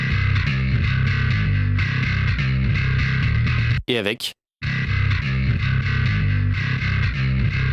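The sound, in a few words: bass sidechain-compressed by kick drum in mix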